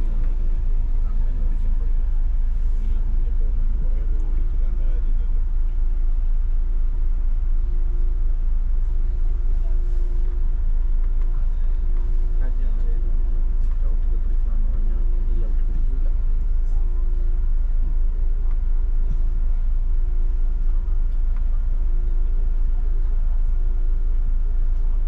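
Steady rumble of a bus riding the road from Dubai to Sharjah in the UAE, a constant low engine and road drone with faint interior rattles throughout, no talking heard.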